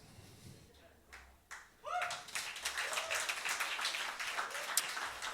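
A crowd at a jazz masterclass breaks into applause, scattered claps at first swelling into steady clapping, with cheers and voices mixed in.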